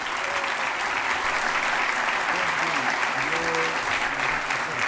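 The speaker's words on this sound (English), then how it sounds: "Let's give one more round of applause to all of our gold level honorees." Audience at a school board meeting gives honorees a steady, loud round of applause, a continuous clapping wash with faint murmuring voices underneath.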